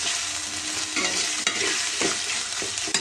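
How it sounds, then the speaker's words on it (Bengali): Ginger and garlic sauté in a pan in a village kitchen, with a continuous crackling sizzle broken by several scraping stirs of a spoon, close and with no talking. "আদা রসুনটা কষানোর জন্য, হ্যাঁ দে অল্প করে দে"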